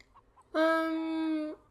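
A hen sitting in a straw-and-fabric nest box lets out one drawn-out, tonal call lasting about a second, close and fairly loud against a quiet coop background.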